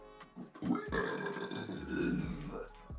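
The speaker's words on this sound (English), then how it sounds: "There's been some pretty gross burps on this one" Loud, gross burps in a burping contest, several drawn-out gurgling belches following one another close to the mic, with no talk over them.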